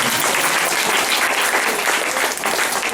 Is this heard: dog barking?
no